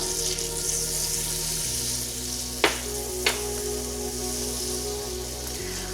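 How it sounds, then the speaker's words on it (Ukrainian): Seventy millilitres of vegetable oil and ten grams of butter heating in a hot frying pan for plov. A soft, continuous hiss sits over a low hum, broken by two sharp clicks. "І спочатку на розігріту пательню я додаю 70 мл рослинного олії і 10 грамів вершкового масла."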